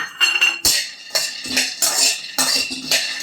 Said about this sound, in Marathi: आपण आता छान खरपूस शेंगदाणे भाजून घेऊ